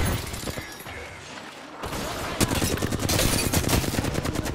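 Rapid bursts of Apex Legends gunfire crackle in a dense, loud stream that grows heavier partway through, with quick repeated shots layered close together.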